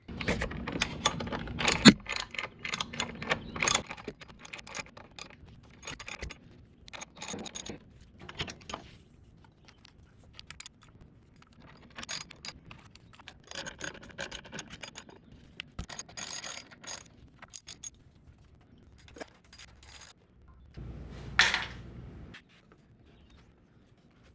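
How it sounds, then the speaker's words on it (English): A 10mm socket ratchet loosens the engine shroud bolts on a Simplicity mower with a Kawasaki FR651v engine, giving close, irregular bursts of ratcheting clicks and metallic clatter with short pauses between them and no talk. "So we'll take our 10mm socket here and get to work."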